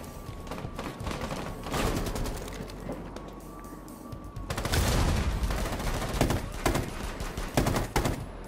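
Rapid bursts of gunfire in the video game Siege rattle through, with dense repeated shots in clusters and a heavier barrage in the second half, loud and close.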